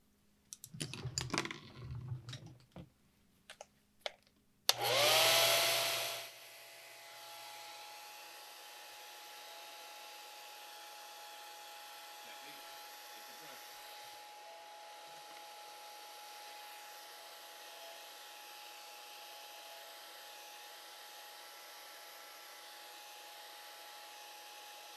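A hair dryer blowing over a freshly painted watercolor winter birch forest starts with a loud burst after some clicks and handling noises, then settles into a steady, even whir that runs to the end.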